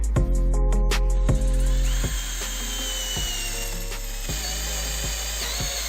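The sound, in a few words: cordless drill boring into hardwood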